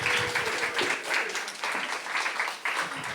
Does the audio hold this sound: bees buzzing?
no